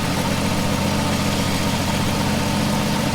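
A 1967 Plymouth four-door's engine idles steadily and close by, a continuous loud rumble with an even low throb and no talk.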